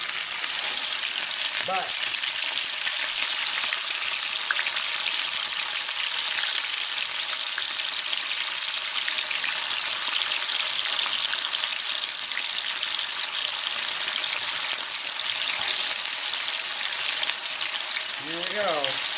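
Pierogi fry in melted pork fat on a stovetop, giving a loud, steady, crackling sizzle that runs the whole time, with a brief spoken word near the end.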